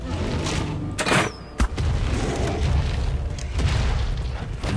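Gunfire while shooting a creature in ARK. Loud booming shots and blasts sit over a constant dense rumble of game noise, with two sharp reports standing out near the start.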